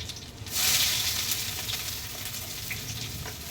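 Dried red chillies and chopped garlic sizzle in hot oil for a Bengali jackfruit-seed mash, a close crackling fry that swells sharply as ingredients drop in and then settles into a steady hiss.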